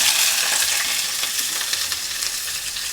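Onion frying in a mix of ghee and oil, a steady close crackling sizzle with bright spattering pops throughout, loud and continuous with no talk.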